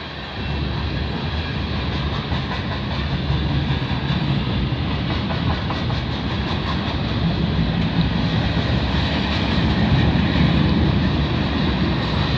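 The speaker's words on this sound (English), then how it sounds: "Most of these freight came from Quebec and they're heading to the States." CP/CN freight train rolling past trackside in Milton, Ontario, a loud, steady, close rumble with clattering wheels and wagon noise sustained throughout, no pause in the roar.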